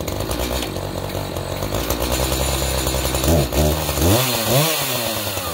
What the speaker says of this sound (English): The bigger engine made a huge difference.